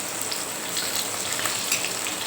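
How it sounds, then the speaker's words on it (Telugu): Korameenu fish frying in a pan until crispy, village style: a steady, dense sizzle with fine crackling spits holding at an even level throughout, with no voices. "ఇట్లా తిరిగేసుకుంటా మంచి కలర్ వచ్చే వరకు, క్రిస్పీగా అయ్యే వరకు"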